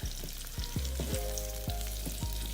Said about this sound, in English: I got the stove down low while my onions is grilling.